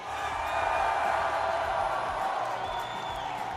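A large esports arena crowd at a grand final roars and cheers in a steady, dense wall of noise, with whoops rising over the din throughout.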